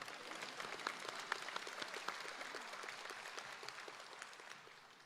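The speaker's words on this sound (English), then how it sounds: "Yeah, we can clap." Audience applause at a university convocation in Orillia, a fairly quiet, diffuse clatter of many hands with a few sharper claps, slowly fading over five seconds.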